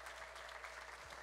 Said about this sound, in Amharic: ትልቅ ጭብጨባ እና ይልልታ ስለነሱ ለእግዚአብሔር